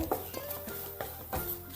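Coriander, chili and turmeric powder are roasted in a pan, with a spoon scraping and stirring in a few soft strokes over a low, faint sizzle, heard close with no talk.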